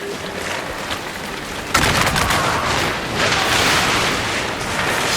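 Ship cannons fire in a naval battle in Assassin's Creed Rogue, a sudden loud broadside erupting after a quieter stretch and rolling on as a dense roar of booms and crackling blasts.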